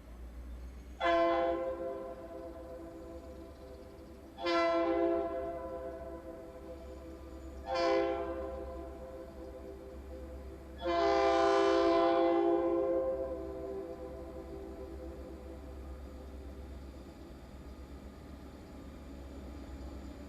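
A BNSF freight train horn sounds four times, three short blasts and a longer final one, over a low continuous rumble of the train at Stevens Pass.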